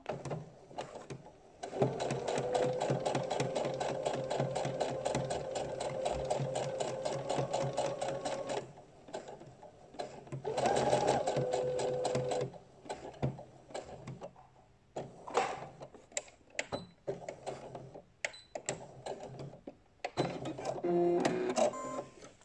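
A sewing machine stitches a straight seam through fabric for a skirt, running in long steady bursts of rapid needle rattle with short pauses between passes, close and fairly loud with no talking.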